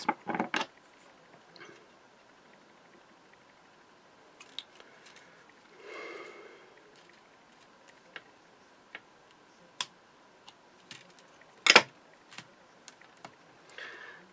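Scissors snip through a thin craft foam pad strip in a quiet room, giving a series of sparse, sharp clicks and cuts with one louder snap near the end.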